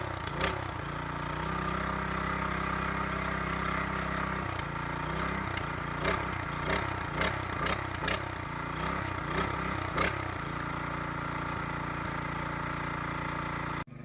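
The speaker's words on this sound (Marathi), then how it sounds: "पप्पाने मशीन चालू केली आणि आता नांगरायला सुरुवात केली आहे" A farm plowing machine working a paddy field, its engine running steadily close by with a low throbbing idle, a cluster of sharp clattering knocks and revs through the middle, then settling back to an even drone.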